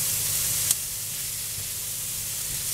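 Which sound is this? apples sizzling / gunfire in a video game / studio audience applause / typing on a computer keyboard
apples sizzling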